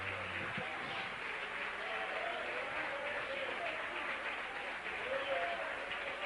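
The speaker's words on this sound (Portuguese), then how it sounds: "Receba essa aplauso, Jesus, que é para ti essa noite" A church congregation applauds during an evening worship service, with steady, dense clapping that fills the room and runs continuously under speech.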